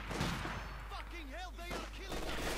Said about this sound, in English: Got the mortar there continuing to sort of fire away, trying to slay anyone.